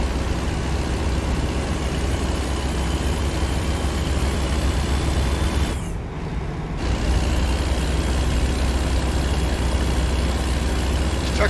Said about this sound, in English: This truck sounds like a beast